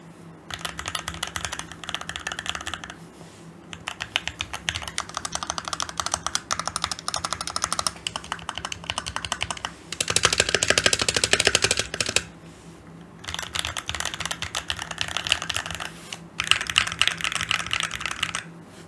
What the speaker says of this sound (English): So here's a little sound test for you guys.